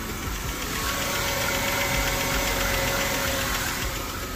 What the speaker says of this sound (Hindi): इंजन का आवाज़ तो काफ़ी अच्छा है इसका